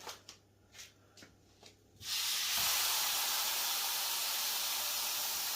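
Grade A5 Kagoshima wagyu steak hits a hot oiled pan with a sudden, loud, steady sizzle that keeps going, after a few quiet knocks and taps.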